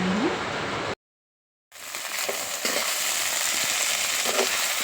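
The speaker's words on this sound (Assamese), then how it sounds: "এয়া কুন্দুলি আলু চব পিছল কৰি ভাজিছোঁ দেই" Sliced kundruli and potatoes frying in a pan, giving a steady, close hiss and crackle. The sizzle cuts out for under a second, then returns loud and unbroken.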